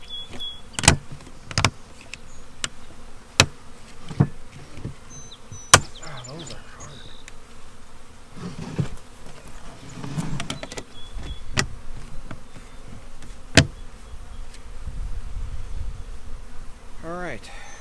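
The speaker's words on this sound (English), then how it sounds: "we're set to take the hive apart and install the bees" Package honeybees buzz steadily around a hive being opened for installation, with sharp knocks and clicks from handling the equipment scattered through.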